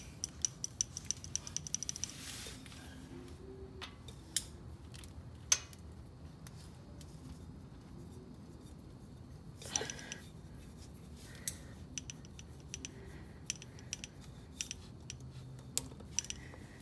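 A small threaded adapter wrapped in Teflon tape is turned into a tapped hole in a Nissan Z31 engine block, making faint, scattered ticks and ratchety clicks over a quiet background.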